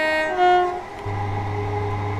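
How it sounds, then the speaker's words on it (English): An electric multiple-unit train, likely a Class 377, in Train Simulator on the Midland Main Line toward St Pancras sounds a loud two-tone horn blast, then settles into a steady low electric hum, close with no voices. "Favourite electro style train, probably a 377."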